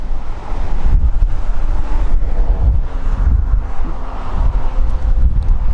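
Strong wind buffets the microphone on the shore of Lake Sevan, a loud, rough rumble that never lets up, with choppy waves washing underneath.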